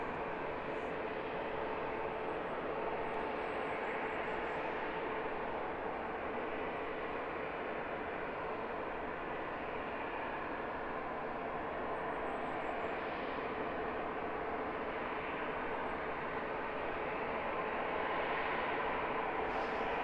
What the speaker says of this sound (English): These private jets, power to spare, luxury beyond luxury.